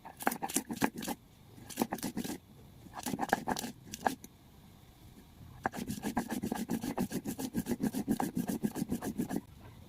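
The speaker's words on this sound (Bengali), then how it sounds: "কাঁচা লঙ্কাটাও এর সাথেই বেটে নেব।" Green chilli is ground together with taro greens by hand on a grinding stone, giving bursts of rapid rasping, scraping strokes in a steady back-and-forth rhythm, close and alone with no talk.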